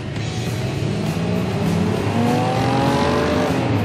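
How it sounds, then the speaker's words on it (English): A Cadillac Escalade with a 403 horsepower V8 accelerating hard from a standstill, its loud engine roar climbing steadily in pitch through the gears with no talking. "With a 403 horsepower V8, it combines incredible acceleration with the capability and luxury of,"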